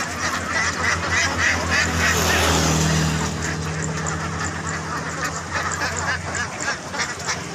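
A dense flock of about 230 ducks quacks loudly and continuously, many birds calling at once close by as they are loaded into a motorbike cart.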